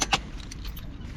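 A bike being locked up, with a metallic jangle of lock and keys near the start and faint clicks and low traffic rumble around it.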